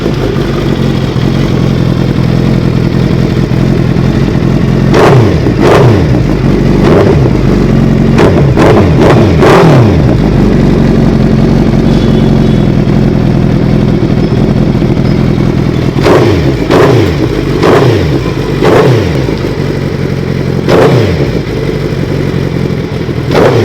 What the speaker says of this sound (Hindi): Guys, this is how the M4 exhaust sounds like.